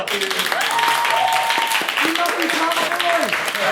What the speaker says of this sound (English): Okay. Round of applause, Mr. O'Neill.